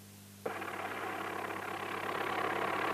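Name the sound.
tractor engine idling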